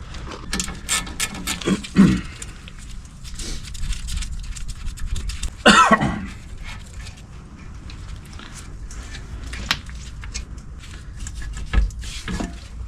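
Bolts being loosened and removed from a brake caliper on a 2019-2023 GM Silverado pickup, with two 14 mm bolts: scattered close metallic clicks, ratcheting and clunks at an uneven pace, plus a louder clatter partway through, with no talking.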